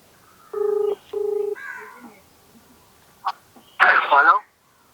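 Telephone keypad tones as a number is dialed to call a prize winner: two steady beeping tones in quick succession, followed by a short click and a brief burst of voice, fairly close and clear.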